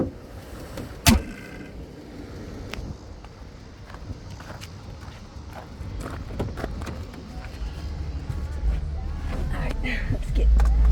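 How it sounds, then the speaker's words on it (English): Hood of a 2014 Jeep Grand Cherokee with 179,000 miles being shut: one solid, close metallic slam near the start, followed by quieter shuffling, handling noises and a low ambient rumble that grows toward the end. "Let's get that hood actually shut."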